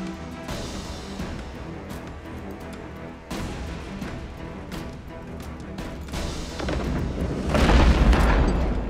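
Cannon fire on a ship in the naval combat game Abandon Ship: a dense run of loud, rumbling booms with crashing impacts that swell louder and heavier toward the end.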